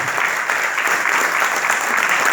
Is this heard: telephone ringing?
no